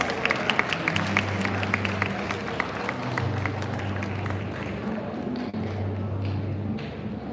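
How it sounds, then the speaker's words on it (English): Audience at a school prize day for grades 10 and 12 clapping, a moderate patter of applause from a hall crowd that continues steadily, with some low background murmur. "Let's give her a huge round of applause."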